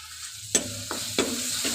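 Onion and tomato fry in a pan with a steady sizzle, broken by three or four sharp scraping stirs that land about half a second apart, close and fairly loud.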